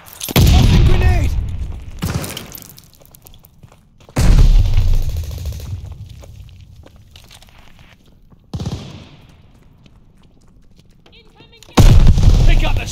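Grenade blasts and gunfire in Call of Duty Vanguard multiplayer: heavy booming explosions land one after another, each followed by a rumbling decay, while scattered shots and in-game callouts sound between them.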